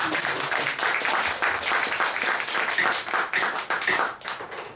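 Applause from members at a general meeting, a steady burst of clapping hands lasting several seconds, moderately loud and close, thinning slightly toward the end.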